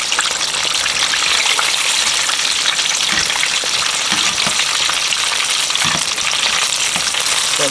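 Chicken pieces deep frying in hot oil, a loud, dense, continuous crackling sizzle close by, with faint bubbling pops and no voices.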